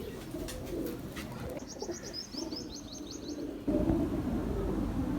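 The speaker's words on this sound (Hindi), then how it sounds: "ले जी ये कबूतर का मैं आपको शो करवाता हूँ।" Pigeons coo softly and repeatedly, with a brief run of higher chirps in the middle, close by and moderately quiet, with no one speaking.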